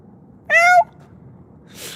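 A single clear cat meow, close and fairly loud, rising and falling over about a third of a second against quiet background, followed by a brief soft breathy noise.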